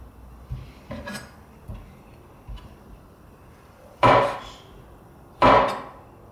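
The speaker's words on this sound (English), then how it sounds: "I'm just gonna cut up the rest of the mushrooms now" A knife slices washed shiitake mushrooms into strips for chicken congee, with a few soft, scattered taps followed by two louder, sharper chops close by near the end.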